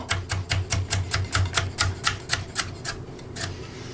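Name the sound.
turbo knife quickly cutting rainbow carrots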